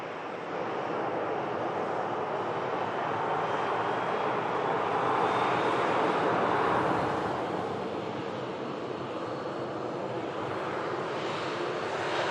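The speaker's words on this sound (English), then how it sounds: "So we should see that aircraft departing very shortly." A 15-year-old Aer Lingus UK Airbus A330-300 departing, its jet engines building to a broad, sustained roar that swells toward the middle and eases slightly, heard alone at moderate distance.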